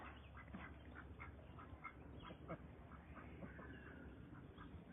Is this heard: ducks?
yes